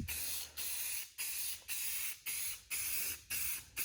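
Spray gun laying a top coat of paint on beadlock wheel rings, seven steady hissing bursts separated by brief pauses, close and loud, with no voices.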